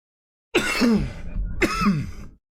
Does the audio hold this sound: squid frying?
no